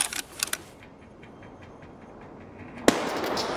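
A grenade going off in Escape from Tarkov, a single sharp loud blast near the end after a few faint clicks and a low rumbling background.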